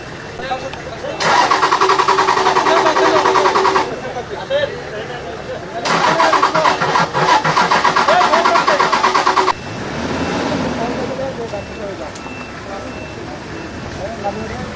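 Vehicles back up on a road amid a street standoff, several bursts of rumbling engines and rattling noise, loud and close, with a crowd of voices and shouting throughout.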